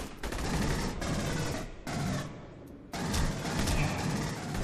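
Dense bursts of automatic gunfire from the video game Aliens Colonial Marines, loud and continuous with brief gaps, sustained rattling volleys filling the clip.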